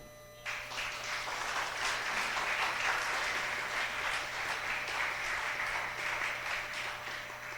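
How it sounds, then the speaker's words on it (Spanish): A church congregation bursts into applause after a short quiet moment, a dense, even wash of many hands clapping that holds steady to the end. "¿Puede aplaudir al Señor?"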